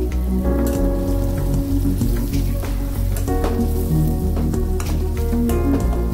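Turmeric, special masala and coriander powder fry in a pan with a steady, loud sizzle and crackle, close up and continuous under a constant low hum, with no talking.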